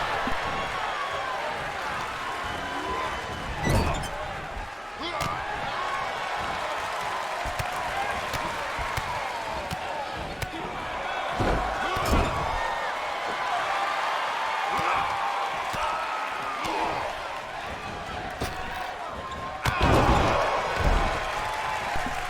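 Crowd noise at a lucha-style pro wrestling show featuring La Parka and Penta, a steady roar of cheering and applause with bursts of louder reaction and thuds from the ring throughout.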